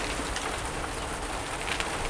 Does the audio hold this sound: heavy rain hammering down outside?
yes